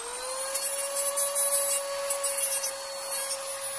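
A power tool fitted with a blade normally used for metal grinds against an unknown stone being hand-polished, a steady high whine with rough, intermittent rasping bursts of contact, close and fairly loud, with no talking.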